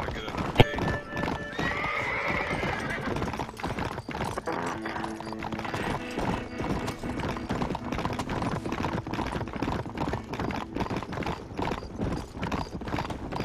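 Hooves of a horse in Red Dead Redemption clip-clop in a steady rhythm, close and continuous, with a whinny near the start and faint game ambience underneath.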